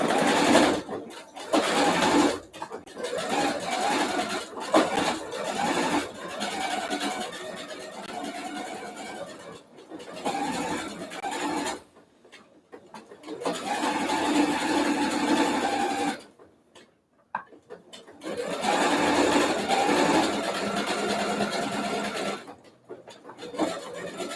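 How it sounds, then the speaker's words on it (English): Sewing machine zigzag-stitching the raw inside edge of a woven fabric for a mask, loud busy running in several bursts separated by short pauses, close by. "I'm gonna do a zigzag stitch on it, but on the inside, on the raw side of the fabric."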